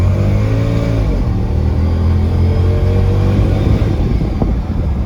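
A 2011 Audi S6 with a 5.2-litre V10 roars at sustained high revs, its throttle held open by a snagged floor mat. The engine drone is loud, steady and close, with rising and falling harmonic sweeps through the whole stretch.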